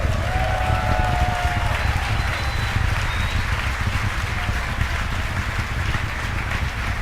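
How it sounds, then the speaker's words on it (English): Spectators applauding at a Falcon Heavy rocket launch (Arabsat 6A), a steady wash of clapping mixed into loud low-frequency rocket rumble throughout, captured binaurally. "You can hear the applause behind me as we've gotten past maximum dynamic pressure."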